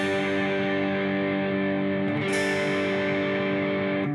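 Distorted electric guitar plays the opening part of a rock song at a slow tempo, sustained chords ringing loudly with a brief scrape of a change midway, alone with no voices.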